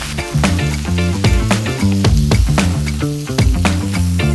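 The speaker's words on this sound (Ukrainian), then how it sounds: "Поки наше м'ясо обсмажується" Chicken sizzling and frying in a hot frying pan, a steady crackling hiss that continues throughout, with background music playing over it.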